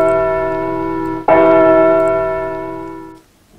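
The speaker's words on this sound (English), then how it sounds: "Only the large fog bell was still ringing just as loud." A large fog bell at a lighthouse by the sea rings with two close, loud strikes, the second restriking the first's sustained metallic tone before it fades away.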